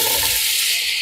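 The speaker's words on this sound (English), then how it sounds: "it's hot, so let's pour in the onions and celery" Onions and celery sizzle steadily in hot olive oil in a pan, a loud, dense, continuous crackling hiss from start to finish with no voices.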